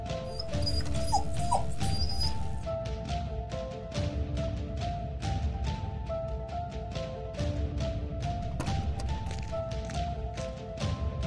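A cartoon pet dog whimpers and whines in short repeated bursts, up close and fairly loud over a busy animated soundtrack.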